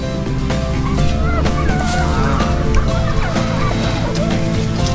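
Turkeys on a poultry farm gobbling loudly and repeatedly, warbling calls overlapping from several birds close by over a constant background of flock noise.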